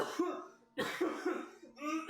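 A phlegmy, wet cough comes in three close, rough bursts separated by short pauses, loud and near, with no talk over it.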